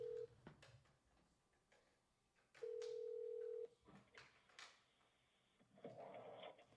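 An office telephone being dialed for a wholesale real estate cold call: short button taps and beeps, two steady tones, clicks, and a burst of connection noise at the end, all quiet.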